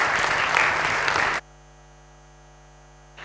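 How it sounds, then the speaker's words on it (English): Applause for a speaker at a K-IT Day event, a dense burst of clapping that stops abruptly after about a second and a half, leaving only a faint electrical hum. "A huge round of applause"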